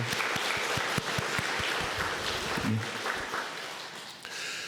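A church congregation claps together steadily throughout, a dense patter of hands that stays fairly even, with a few voices faintly mixed in.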